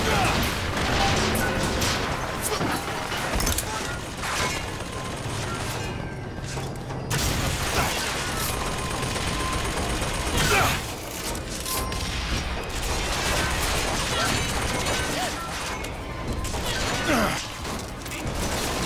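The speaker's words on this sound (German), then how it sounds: "Wo schießt denn da einer auf mich?" Gunfire aimed at the player in the video game Bioshock Infinite, with rapid shots and sharp metallic impacts in a dense, busy mix of clanking mechanisms and crashes, steady and loud throughout.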